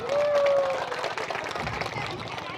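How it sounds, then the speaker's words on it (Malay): A stand-up comedy audience breaks into a patter of hand clapping mixed with crowd murmur, starting as a voice tails off and continuing at a moderate, steady level. "Tepuk tangan untuk kita semua."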